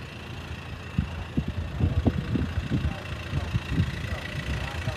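A Mercedes-Benz A 160 D with a 1.5-litre 66 kW diesel engine idling, giving an uneven run of low, soft thumps and knocks over a steady hum.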